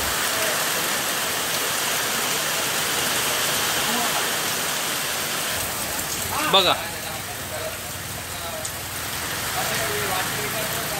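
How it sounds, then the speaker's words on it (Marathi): Heavy unseasonal rain pours steadily during a thunderstorm, a dense, constant hiss of drops on surfaces, with someone briefly speaking over it. "पावसाने हजेरी जी लावल्या ना"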